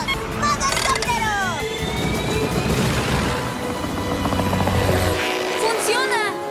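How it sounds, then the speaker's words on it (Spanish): A cartoon helicopter mode kicks in with a loud, whirring buzz and rising electronic sweeps, dense and continuous under lively character voices in a children's animated episode, cutting off sharply near the end. "¡Modo helicóptero!"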